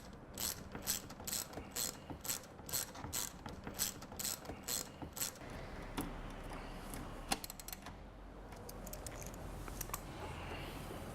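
A screw is driven in to hold a battery charger in place on a Vectrix electric scooter, with a rapid series of close, sharp ratcheting clicks that break off partway and leave softer mechanical handling noises behind.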